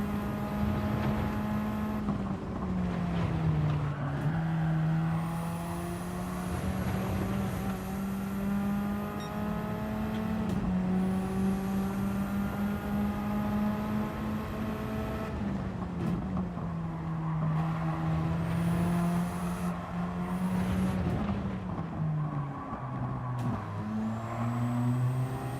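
A race car in Gran Turismo 7 drones steadily at high revs throughout, its engine pitch dipping and climbing with gear shifts and throttle changes, with faint tyre and wind noise and no talking.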